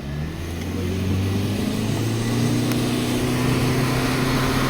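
Engine noise from inside a self-driving car running a slalom course, a steady loud motor drone with shifting low tones throughout and no talk.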